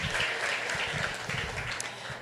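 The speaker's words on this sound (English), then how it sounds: "I want you all to give yourselves a round of applause." Audience applause at a GitHub Girl Geek Dinner opening, a dense, steady wash of many hands clapping together, fairly close and sustained throughout with no talk over it.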